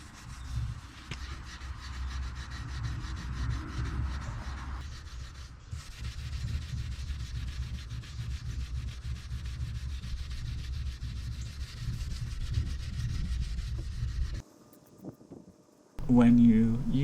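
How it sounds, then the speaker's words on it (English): Steel wool dampened with naphtha is rubbed back and forth over a damaged wooden tabletop, giving a steady close-up scratchy scrubbing that runs for about fourteen seconds, pauses briefly, then resumes with a short squeak. "apply some naphtha to the damaged area of the top and then rub with steel wool"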